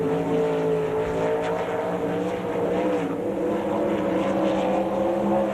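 A World of Outlaws sprint car, number 80, laps the dirt track at Rossburg, Ohio in 1998, its engine a loud, continuous droning roar with shifting pitch as it circles.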